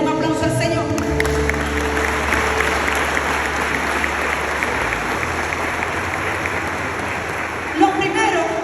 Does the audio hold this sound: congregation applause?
yes